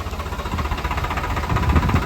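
A tractor engine idles in a field during maize-field puddling work, a steady low throbbing rumble with a rapid pulsing beat, close and unbroken, with no talk.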